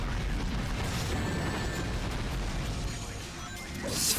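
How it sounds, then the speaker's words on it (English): Explosions in the Shadow the Hedgehog video game roar in a dense, loud, continuous wash of blasts and crashing noise, with a brighter burst near the end. "Just fucking explosions."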